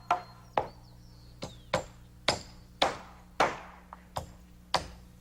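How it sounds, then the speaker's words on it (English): Nails being hammered into rafters and a ceiling joist during roof framing: about ten sharp, ringing hammer blows at irregular intervals, close and loud, with a faint hum underneath. "nails his end to a ceiling joist, and the same on the other side"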